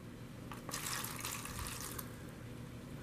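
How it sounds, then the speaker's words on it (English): Water pours into a plastic seed-starting tray holding seed cells for bottom watering, a steady splashing trickle that swells briefly and then settles, fairly close and alone with no voices. "I'm just going to put in enough water"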